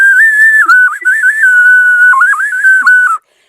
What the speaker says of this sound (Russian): есть игрушки, которые называются свистульки